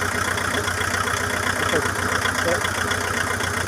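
A diesel engine with a faulty injector runs at a steady idle, a dense continuous rumble with faint irregular knocks, close and loud throughout.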